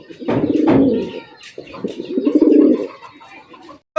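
Deep, throaty coos of native deshi pigeons at a pigeon sale sound up close, two long rolling calls with a short pause between them.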